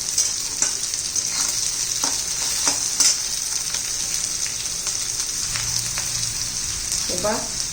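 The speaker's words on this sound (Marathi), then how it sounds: "आणि मस्त आपलं परतून घेऊया खूप जास्त आपल्याला ह्या भाज्या शिजवायच्या नाही आहे" Vegetables sizzle steadily in a hot pan while a utensil scrapes and stirs them in several distinct strokes, with a brief voice near the end.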